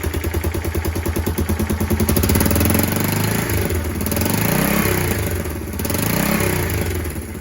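A Kawasaki KLF300 Bayou 4x4 ATV engine idles with a steady, rapid chugging putter, close by and loud, its pitch wavering slightly as it ticks over.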